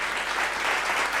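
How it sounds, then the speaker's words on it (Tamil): A church congregation at a Bible study gathering claps together, a short, dense burst of applause heard close and fairly loud. "கைத்தட்டுங்க ஒரு தடவை அவருக்கு."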